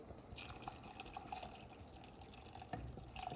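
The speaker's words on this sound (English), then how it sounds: "I'm gonna add some additional water" Water trickles and drips steadily into a pot of spicy pumpkin stew, a soft continuous pouring sound with small splashes, fairly quiet and close.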